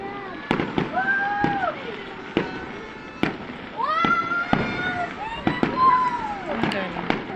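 Fireworks at an outdoor display in La Trinidad, Benguet, burst repeatedly in sharp cracks and booms, some near and loud, with whistling trails rising between blasts while people talk and exclaim nearby.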